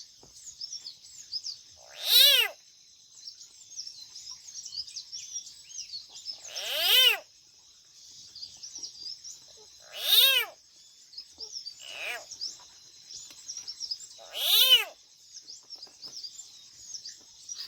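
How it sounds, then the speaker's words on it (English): A frog gripped by a snake in a village setting gives four loud, separate cries spaced a few seconds apart, each a rising and falling wail, over a steady background of high insect or bird chirping. "Same like small child. Frog is crying."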